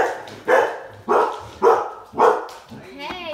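Young Doodle puppies bark in four loud, close bursts about half a second apart, frightened during nighttime play, followed by softer whimpering yips at the end.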